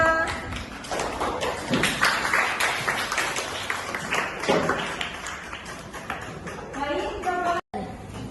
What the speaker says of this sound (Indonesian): Tepuk tangan untuk Dina.